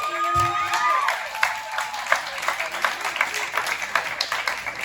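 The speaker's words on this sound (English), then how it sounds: "Round of applause." A small group claps in brisk, uneven rhythm, light and fairly close, with a brief murmur of voices at the start.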